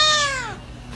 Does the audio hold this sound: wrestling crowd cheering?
no